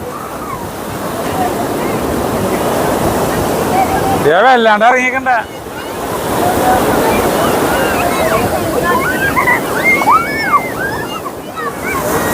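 Ocean surf on a crowded beach rolls and crashes continuously, loud and close, with wind buffeting the microphone and people talking and shouting nearby.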